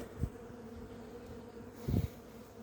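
Honeybees buzzing as their hive is carried aside, a soft continuous drone with two brief louder swells as bees pass close to the microphone.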